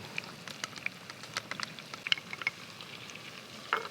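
Crayfish sizzling in a pan with smoked paprika, a soft, quiet crackle of frying with scattered pops and spits throughout.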